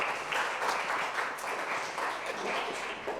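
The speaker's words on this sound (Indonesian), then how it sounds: "Tepuk 2 kali, tepuk 4 kali, 1 kali." A classroom of students claps hands together in counted bursts, a steady run of fairly loud, dense claps with no talk over it.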